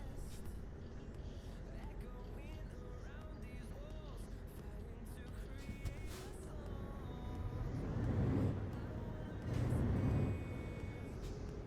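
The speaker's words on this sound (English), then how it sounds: "Quite like the sound of this truck as well." Truck engine in a trucking simulation game, a low continuous rumble that swells twice toward the end as the vehicle drives on.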